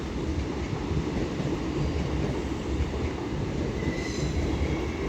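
An LNER Class 801 train running through Doncaster station on the East Coast Main Line, a loud continuous rumble of wheels and carriages with a faint high squeal near the end, no voices.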